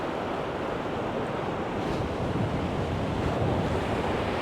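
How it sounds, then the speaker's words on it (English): Strong wind roars steadily across a seashore where surf breaks, a dense, continuous rush with gusts rising and falling and the low churn of waves beneath, no voices present. "You can see how strong the wind is now."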